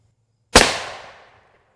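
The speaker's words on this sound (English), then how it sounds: "We're going to shoot the right side of the plate." A rifle firing an M80A1 round at roughly 3,400 feet per second into a boron carbide and polyethylene hard armor plate: a single sharp, loud crack that rings out and decays over about a second, with no voices.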